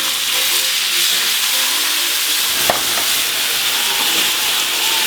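Steaks sizzle and hiss steadily in a hot pan after cognac is added, a loud, continuous frying crackle with a brief sharp pop partway through.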